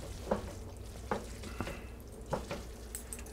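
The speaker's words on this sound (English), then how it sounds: "You want to mix your dish now, just to get the pasta coated with that pesto and the oil." Spaghetti with shrimp, artichoke pesto and oil is tossed in a pan. Faint steady sizzling runs underneath a few soft, spaced utensil knocks and scrapes, close but quiet, with no talking.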